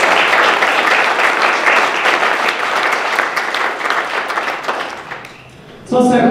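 An audience applauds at a Mandela Day program in Duluth, a dense, loud clapping that holds steady, then fades and stops near the end before a voice begins speaking.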